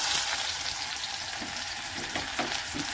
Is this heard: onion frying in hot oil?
yes